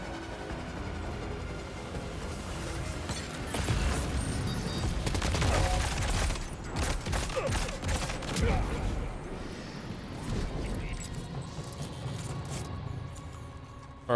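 Rapid gunfire crackles through a firefight in the video game Death Stranding 2. Dense bursts of shots repeat against a busy mechanical backdrop, peak loudest midway, and keep going in scattered volleys at moderate distance.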